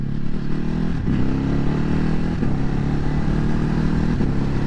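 A 2020 Ducati Hypermotard 950 SP engine drones steadily and loud while riding, a continuous throbbing hum with a few brief shifts in pitch, with no speech.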